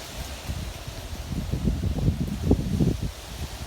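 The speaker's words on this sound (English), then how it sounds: "It's a little windy, but not too bad." Wind from Hurricane Florence in Carolina in 2018 buffets the microphone with low, gusty rumbling and a soft rustle of nearby pine trees, moderately strong but not roaring.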